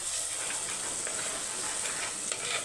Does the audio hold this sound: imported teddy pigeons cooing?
no